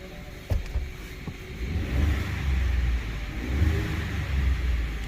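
A 2019 Ford F-150 with a 2.7L EcoBoost engine, repaired for an exhaust EGR leak and turbo fault, runs at a steady low rumble throughout, close and moderately loud, with a couple of brief clicks near the start.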